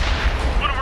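Loud booming tank cannon fire in World of Tanks on Xbox One, a heavy blast with a rumbling tail that fills the short moment.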